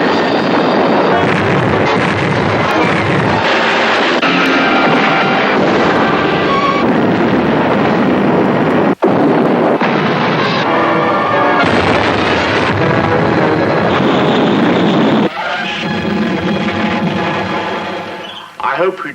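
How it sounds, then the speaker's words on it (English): Explosions in a 1982 movie trailer make a loud, dense roar of booms with one sharp burst near the middle, mixed with a voice and ending in a quieter tail. "An explosion always looks good"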